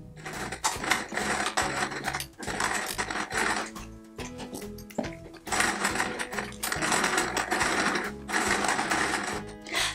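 A sewing machine stitches quilt appliqué around a lily pad, bag and can of worms. It whirs in close bursts of rapid mechanical clatter, with several short pauses between the runs.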